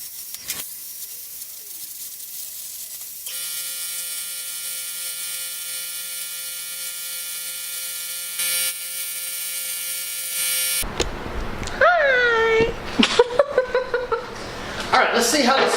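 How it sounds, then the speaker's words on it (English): A plasma cutter slices through steel flat stock in a workshop, giving a steady, loud hissing buzz that runs for several seconds after a quiet start, followed by close talking. "I'm going to cut out this piece of flat stock and lay it in here using the plasma cutter"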